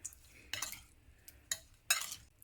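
Raw pork belly seasoned with white pepper is mixed in a bowl, a few separate bursts of wet scraping and clinking utensil strokes with quiet pauses between them.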